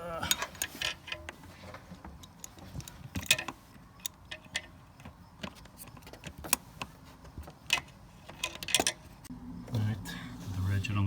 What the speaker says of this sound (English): put the ratchet on the first bolt